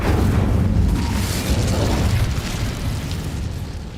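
A burst of the Incendio fire spell being cast in the Hogwarts Legacy video game, a loud, sustained roaring blast that fills the moment and slowly tapers off, with no voices over it.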